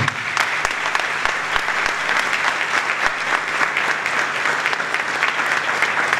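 Sustained audience applause for tank regiment volunteers at an evening gathering, a dense even wash of many hands clapping throughout, loud and steady with no break.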